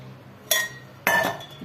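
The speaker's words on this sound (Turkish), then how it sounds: "Demlenen çayımı süzüyorum." Brewed tea being strained into a glass bottle gives two sharp glass clinks about half a second apart, close and clear over a quiet background.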